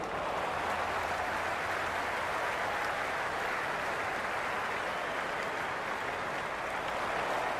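At a Pakistan versus India T20 World Cup match in the video game Cricket 22, a large cricket crowd keeps up a constant hissing roar of cheering and clapping, even in level and filling the background throughout.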